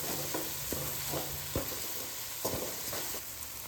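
Fish curry with curry powder is stirred in a hot pan, giving a quiet steady sizzle broken by several scraping spoon strokes at irregular intervals.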